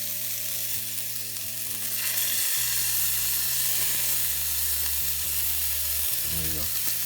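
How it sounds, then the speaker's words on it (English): Bacon, apples and wilted spinach sizzle loudly in a frying pan, a dense continuous hiss and crackle with stirring scrapes and low tonal hum underneath; no talking. "Now we're going to dump the bacon and the apples."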